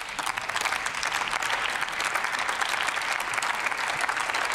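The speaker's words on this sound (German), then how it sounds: "Daher würde ich Sie herzlich um einen Applaus bitten für diejenigen, die für uns da sind" Sustained, dense applause from parliament members filling the chamber, steady and loud without pause.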